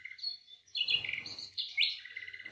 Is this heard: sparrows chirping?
yes